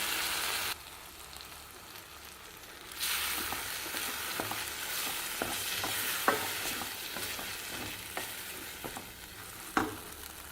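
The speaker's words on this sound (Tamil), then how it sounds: "வேக வச்ச பருப்பு சேர்த்துக்கிறேங்க இதில்" Cooked moong dal tipped into ghee in a pan for a sweet, giving a steady close sizzle and frying hiss as a spoon scrapes and stirs with occasional knocks against the pan.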